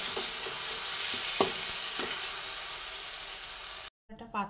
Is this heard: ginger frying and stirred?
yes